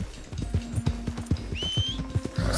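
A video game horse clops along in a steady rhythm of hoofbeats, then lets out a rising whinny near the end, loud and close with no talking over it.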